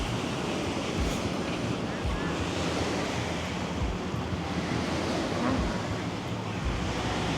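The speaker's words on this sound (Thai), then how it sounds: "ที่นี่เขาก็มีชายหาดติดทะเลเลยที่ที่รีสอร์ทอันนี้" Steady roar of ocean surf washing onto Blue Blue Beach at a resort in Rayong, Thailand, constant and fairly loud, with wind buffeting the microphone throughout.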